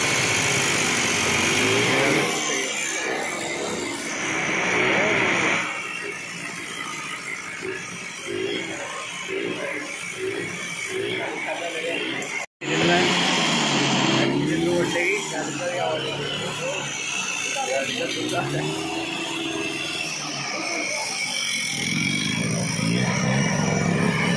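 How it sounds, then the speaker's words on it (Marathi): A vehicle's petrol engine, just started, runs with a continuous buzzing idle beneath loud, near continuous talk from several people, with a brief cut partway through. "गाडी चालू झालेली आहे, आता पेट्रोल गाडी चालू केलेली आहे, गॅसवर चालू करणार आहे"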